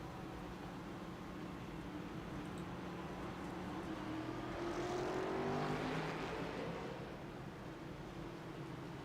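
Race cars roll down pit road at the Talladega race, a faint, steady engine drone that swells briefly as cars pass by, then settles back to a distant hum.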